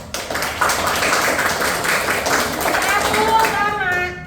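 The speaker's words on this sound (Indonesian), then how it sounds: "Oke, tepuk tangan untuk Getsa dan kawan-kawan" A classroom of students claps for their classmates, a dense, close burst of many hands clapping that runs throughout, with voices calling out near the end.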